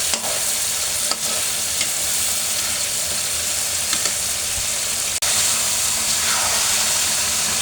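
Spiced masala frying in oil for meat, a loud continuous sizzle and hiss close by, with a few sharp clinks of a spatula against the pot.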